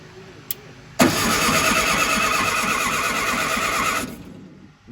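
An old air-cooled VW Beetle engine cranks on its starter without firing, a loud, steady churning whir lasting about three seconds after a brief click, then winding down.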